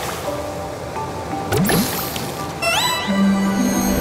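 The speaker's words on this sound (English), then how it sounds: "use water to wash the gloop off the tree" Splashing, sloshing water washes sticky gloop off a palm tree in an island clean-up video game, with bright chimes and a low tone over a steady wet background.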